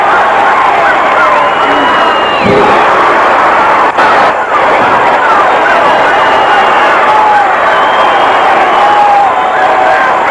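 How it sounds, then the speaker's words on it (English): Dense crowd of wrestling fans roaring and cheering continuously at a 1977 WWA All Star Championship Wrestling match, loud and sustained throughout with a brief dip near the middle. "And the fans cheering him on."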